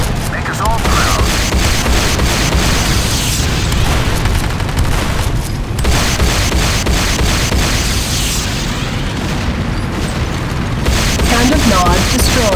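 A Nod structure blowing up in the Command & Conquer Renegade video game, with loud, continuous booming explosions and bursts of battle noise. An announcer-style voice speaks over it.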